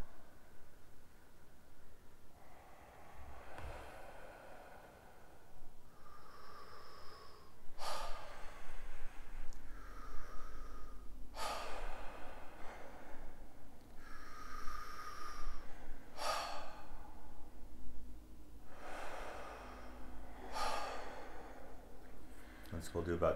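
Rapid deep breathing exercise, with forceful, repeated inhales and exhales through the mouth at a steady, quickening rhythm, close and clear, with a voice talking between breaths.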